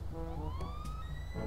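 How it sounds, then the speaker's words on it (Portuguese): A broken police car siren in GTA V Online gives a brief, thin rising wail that sweeps upward and wavers, heard over a constant low engine rumble from the game. "Que sirene podre, velho"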